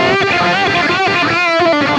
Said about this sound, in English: It's like playing a saggy tube amp, basically.